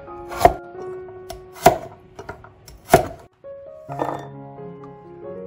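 Ginger and garlic being chopped with a knife on a cutting board: three sharp, evenly spaced knife strikes, then a short run of lighter, scraping cuts, close and clear with no talk.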